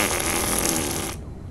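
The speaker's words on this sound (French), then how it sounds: "J'aurais jamais dû péter aussi fort." A loud, sustained fart sound effect from the video game Fahrenheit blasts close and alone, then cuts off abruptly near the end.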